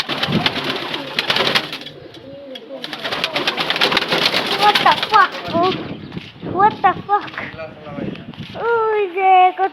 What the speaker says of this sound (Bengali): আর এদিকে কবুতরও আসছে, আপনার কবুতর দেখবেন,